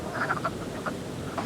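A wood frog calls at a vernal pool with several short, low clucking croaks in a quick cluster, then a few more a moment later, faint over steady outdoor background.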